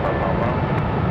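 An airliner departing Raleigh Durham International Airport roars steadily and loudly in a brief stretch of broadband engine noise.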